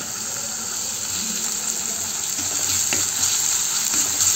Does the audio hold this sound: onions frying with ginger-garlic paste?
yes